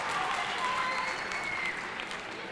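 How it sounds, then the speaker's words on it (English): Sustained round of applause from an audience at a speaking event, dense steady clapping throughout with a slight fade toward the end, no voices standing out. "Give him a round of applause"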